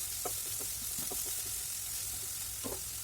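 Onion, carrot, beans and green chilli fry in a pan with a quiet, steady sizzle, broken by a few soft scrapes and clicks from stirring.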